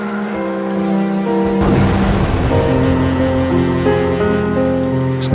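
Steady rain falls on a surface with a dense, close, continuous patter and hiss, a low rumble beneath, layered over sustained musical tones throughout.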